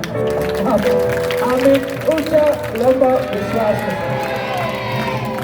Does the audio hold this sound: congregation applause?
yes